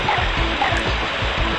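A steady, loud rush of falling water fills the air beside the cave behind the magic waterfall in the PS1 game 102 Dalmatians: Puppies to the Rescue, a continuous close roar with faint low pulses underneath.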